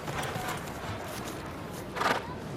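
Hooves of the Queen's novice horse Stardust, ridden side saddle at a Windsor horse show, clip-clop steadily under a busy outdoor background, with a brief louder burst near the end.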